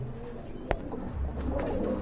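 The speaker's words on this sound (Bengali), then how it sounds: "একজোড়া কালদম কবুতর দেখতে পাচ্ছেন এখানে" A pair of kaldom pigeons coo softly and repeatedly in a pigeon-keeping setting, with a sharp click early on and a steady low background hum.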